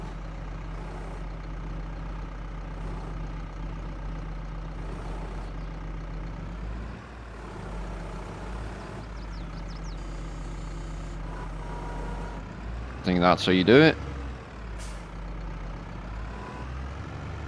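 In Farming Simulator 22, a struggling tractor engine drones low and steady while it pulls a bale trailer. A brief louder burst of mechanical noise comes near the end, and someone speaks briefly.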